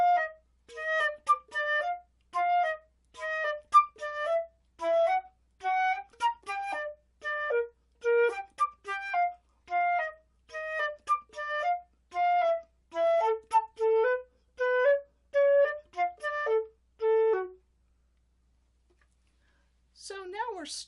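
Flute practising a passage from Andersen's Op. 41 Etude No. 14, Andante: a steady run of clear, separate tones moving up and down, played alone at close range. A short pause follows, then a brief new phrase begins.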